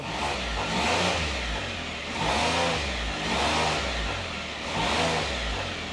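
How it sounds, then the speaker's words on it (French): The engine of a Can-Am Spyder three-wheel motorcycle revs up and eases off four times in a steady rhythm, heard up close. "on entend un peu le bruit du moteur"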